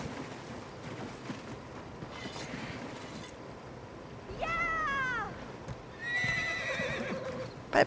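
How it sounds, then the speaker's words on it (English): Horses in the video game Elder Scrolls Online: hooves clopping beneath two loud, drawn-out neighs in the middle and later, over a steady outdoor game ambience. "Bye-bye, horses."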